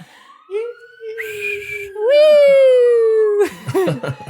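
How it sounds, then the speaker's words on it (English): An ambulance or fire truck siren wails down the street, rising and falling in loud, sweeping tones as it passes close by, with a voice whooping and talking over it near the end. "there's like an ambulance going by"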